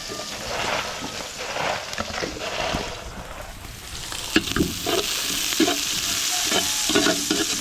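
Garlic and onion sautéing in hot oil for pancit, a steady close sizzle with repeated scraping stirs of a utensil against the pan, growing slightly louder partway through.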